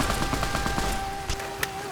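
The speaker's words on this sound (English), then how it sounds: "so Eddie also put in some work with this gun" Rapid automatic gunfire from a submachine gun in the video game Fallout: New Vegas, a dense rattling burst over loud game sound with a couple of sharper cracks near the end.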